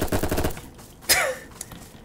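Gunfire in Apocalypse Rising 2 rattles in a fast burst of close shots, then stops; after a short pause comes a sharp whistling swish and one small click, with no voices.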